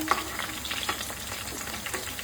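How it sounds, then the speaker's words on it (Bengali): Steady, dense crackling sizzle of food deep frying in hot oil, close by and continuous throughout. "একটু বেশি তেলের ভিতর দিতে হবে যাতে ভাজাটা ভালো হয় আমি ডুবো তেলে ভাজতে হবে"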